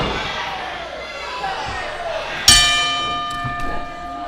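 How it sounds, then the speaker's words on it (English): A ring bell struck once to end a wrestling match, a sharp metallic clang with a ringing decay and a couple of lighter follow-up hits, under crowd noise and commentary. "Referee calls for the bell."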